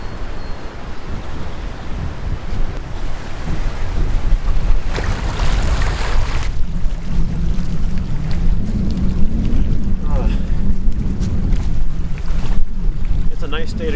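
Wind blows outdoors on a cool, warm day, a constant broadband rush and buffeting across the microphone that runs steadily throughout without pause.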